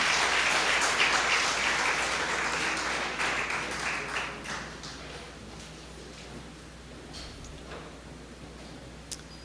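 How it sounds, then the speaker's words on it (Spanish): A crowd at a church service applauds, dense clapping that gradually thins and fades toward the end, leaving scattered claps. "Dale otro aplauso y ponte de pie"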